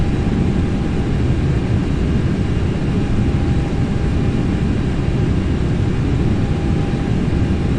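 Airbus airliner in a flight simulator making a low flyby with throttle pulled back and spoilers deployed, giving a steady, loud, unbroken broadband roar with no voices.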